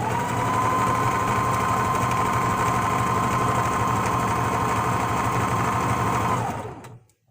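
A well-maintained home sewing machine runs fast while stitching, a steady close mechanical whir and hum that holds evenly for several seconds before winding down to silence.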